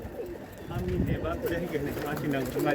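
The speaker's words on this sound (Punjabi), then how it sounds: "ਆ ਟੈਡੀ ਕਬੂਤਰ ਹੈ ਜੀ ਰਾਮਪੁਰੀਆਂ ਦੇ ਵਿੱਚੋਂ ਬਣਿਆ ਕਬੂਤਰ" A Teddy pigeon, a breed developed from Rampuri pigeons, gives a short run of throaty, rolling coos close by while someone talks over it.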